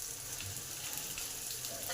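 Karela and capsicum pieces frying side by side in a pan, giving a soft, steady, continuous sizzle with faint crackles, heard close up and alone.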